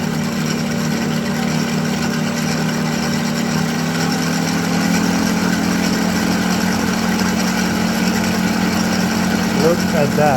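An Ankarsrum Assistant stand mixer runs at a higher speed with a steady, continuous motor whir and hum, close and even throughout.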